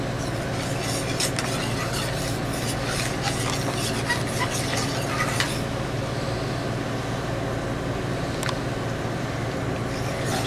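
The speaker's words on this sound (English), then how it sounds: "And you're going to stir this until all your butter is melted." Bananas and butter sauce are stirred in a pan for Bananas Foster, a soft continuous scraping and bubbling with a steady low hum underneath, nearby and moderately loud.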